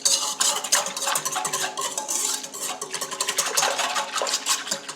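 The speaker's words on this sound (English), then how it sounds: "Just going to give it a quick stir." A spoon quickly stirs yeast into a bread mixture in a bowl, making continuous close scraping and clinking against the sides with a light wet swish.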